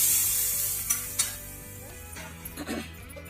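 Asafoetida, bay leaf and cumin hit hot oil in a pan for an Odia vegetable thali, giving a soft continuous sizzle with a few small clinks and stirring scrapes of a utensil.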